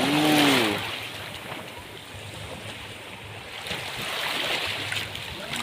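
Sea water near a beach cottage, a continuous wash of waves and surf that swells and eases, with a brief voice at the start.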